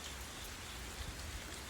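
On a calm night without wind, rain keeps coming down in a continuous broadband patter, steady and unbroken, with a few slightly louder drops near the middle and no one speaking.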